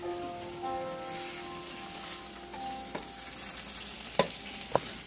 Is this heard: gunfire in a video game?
no